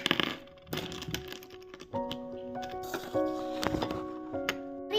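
Plastic Kinder Joy egg being unboxed: crinkling foil wrapper, rattling plastic capsule and small toy pieces clicking, with a dinosaur or turtle toy inside, close and busy with sharp clicks and a few faint tonal squeaks from the packaging.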